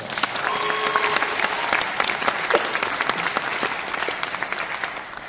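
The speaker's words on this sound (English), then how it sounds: "give yourself a round of applause for coming" Audience at a Korean Night comedy show on a university campus applauding steadily, a thick continuous wash of many hands clapping, loud and sustained with a few whoops.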